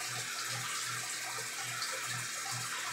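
Tap water runs steadily into a sink during a face rinse, a constant close splashing stream with no voices.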